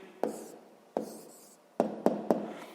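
Pen or pencil strokes on paper while writing out the answer to a sixth-grade math exercise: five short, distinct scratchy taps spaced irregularly, close and fairly quiet, with no talking.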